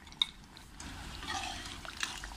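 Yogurt slides wetly into a pot of mutton karahi, a soft liquid plop and squelchy pour with a brief sharp tap at the start, close and fairly quiet.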